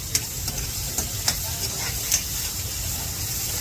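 Onions frying in a pan for Maggi noodles on a TV set: a soft steady sizzle under a low background hum, broken by a few sharp light taps of stirring, with no talk.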